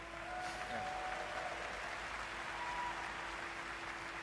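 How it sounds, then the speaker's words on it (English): Sustained clapping from a crowd at The Game Awards 2024, even and continuous throughout, with a faint tonal hum underneath. "So please, a round of applause for our amazing devs."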